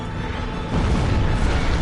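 A boss in Dark Souls Remastered sets off an explosion attack, a dull deep boom swelling into a sustained rumbling roar that fills the clip loudly with no voices.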